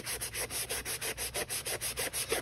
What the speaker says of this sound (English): What I'm doing is just sanding off those high spots.